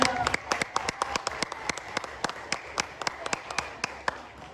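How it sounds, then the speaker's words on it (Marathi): A group claps together in a dance class, giving a run of sharp, evenly spaced claps with a few louder peaks, while people talk faintly underneath. "टाळ्या वाजू द्या."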